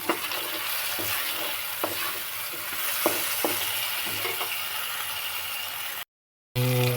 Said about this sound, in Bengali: টমেটোগুলো একটু ভালো করে ফ্রাই করে নেবেন যাতে একদম পুরো গলে যায়